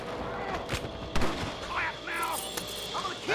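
Shotgun fire in Red Dead Redemption, a few sharp blasts amid a busy gunfight with other shots and game sounds, a voice talking briefly between them.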